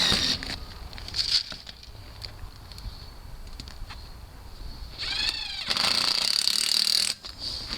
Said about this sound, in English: when you drill this in, you want to get it started at the same direction the pipe is